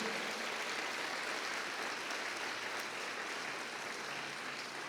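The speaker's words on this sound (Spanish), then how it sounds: "Dale un aplauso fuerte al Señor" Steady, faint applause from a church congregation clapping for the Lord, a dense even wash of hands continuing throughout with no talk.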